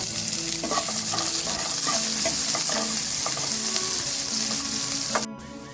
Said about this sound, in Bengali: এখানে অ্যাড করছি কেটে রাখা পেঁয়াজটা 2-3 মিনিট ধরে আগে ভেজে নিচ্ছি